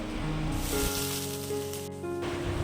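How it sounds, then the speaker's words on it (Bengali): Potatoes hit hot oil in a kadai seasoned with black cumin seeds and a green chilli, giving a steady, close, dense sizzle that runs unbroken for the whole moment, with faint tonal sounds in the background. "আমি কালো জিরে ফোড়ন দিয়ে একটা কাঁচা লঙ্কা ফোড়ন দিয়ে আলুগুলোকে ছেড়ে দিয়েছি"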